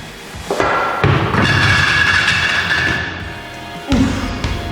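Clattering thumps from a school Rube Goldberg machine as a pulley falls and strikes a roll of tape and a row of levers, with a loud knock, a sustained rattling rumble and a final thud.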